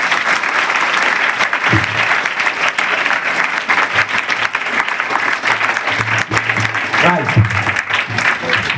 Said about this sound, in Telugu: ఇప్పుడు కళ్ళు తెచ్చి గట్టిగా చప్పట్లు కొట్టండి